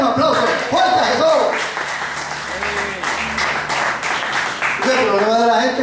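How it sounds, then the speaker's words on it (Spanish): Applause fills a church service, a broad steady clapping wash running the whole time, with a preacher's voice speaking over it at the start and end. "Denle un aplauso fuerte a Jesús."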